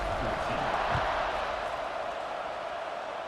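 A large stadium crowd in the College Football 26 video game keeps up a steady, dense buzzing roar after a score, loud and continuous with no distinct cheers standing out.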